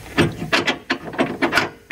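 Bolt being pushed and tapped through the lower control arm bolt hole on a Range Rover L322, a run of short, close metallic scraping knocks in an irregular rhythm, with no talking.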